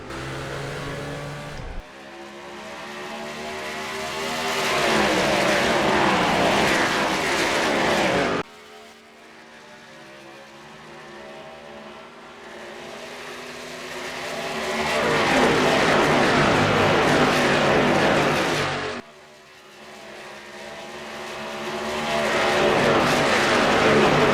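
Race cars in the NASCAR Racing 2003 video game at Indianapolis, 2008 Car of Tomorrow carset: loud, sustained engine roar shifting up through the gears in three long rising surges, with brief drops between them.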